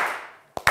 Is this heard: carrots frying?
no